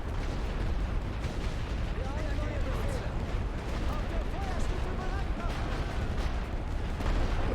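Artillery firing on a World War I Western Front battlefield in The Great War: Western Front, dense rumbling booms and crackling bursts rolling continuously, with someone speaking over the din.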